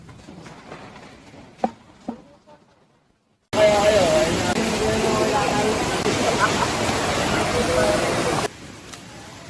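A river rushes at the second river crossing of a mountain hiking trail, a loud, broad, continuous roar that lasts several seconds after quieter moments of outdoor sound.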